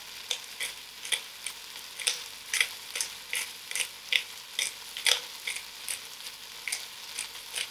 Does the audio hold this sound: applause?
no